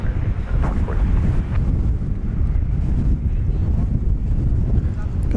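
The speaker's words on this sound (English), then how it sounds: "the wind is kind of buffeting me along with the aircraft" Wind buffets a microphone outdoors at DFW Airport, a loud continuous low rumble and roar lasting the whole time.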